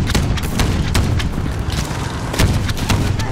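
Heavy tank cannon fire booms repeatedly amid rattling gunfire in Call of Duty: Modern Warfare (2019), a dense, close barrage of blasts and thuds with no pause.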